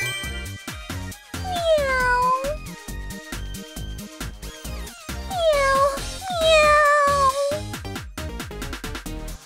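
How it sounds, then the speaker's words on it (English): A cartoon cat stuck in a tree meows loudly several times in drawn-out, wavering cries, with music playing underneath throughout. "There's a cat crying in the tree!"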